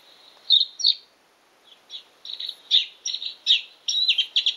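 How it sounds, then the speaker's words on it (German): Reed warbler song comes from a Ting pen bird guide as a string of high, chattering chirps in short repeated phrases, thin and small-sounding, alone without talk. "Teichrohrsänger."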